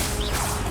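A quick whooshing cast of the Expelliarmus disarming spell in Hogwarts Legacy, a short swish with a sharp whip-like crack, close and fairly loud.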